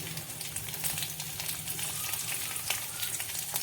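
Green chillies sizzle and crackle in hot oil with ginger and garlic in a pan, a loud, continuous frying hiss with scattered pops close by and no voices.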